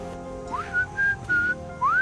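A person whistles a tune in short rising and held notes, clear and close, with quiet pauses between phrases.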